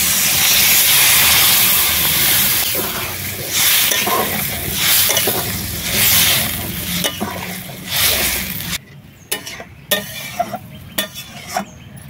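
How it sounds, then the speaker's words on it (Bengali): Water poured into a hot pan of pangas fish fried in spices, a loud steady hiss and sizzle with stirring scrapes, then dropping abruptly to quieter bubbling with occasional clinks. "এবারে অল্প করে জল দিয়ে দেবো।"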